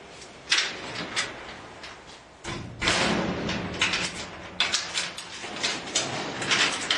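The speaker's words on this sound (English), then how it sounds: "Check for any foreign objects inside the cabinet and close the cabinet door" A metal high-voltage switchgear cabinet door is handled and shut, giving a series of close knocks, rattles and thuds with one heavier bang partway through, in a quiet indoor setting without speech.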